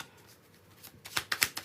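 Cards riffle and snap together in a few quick bursts, close and crisp, after a quiet start.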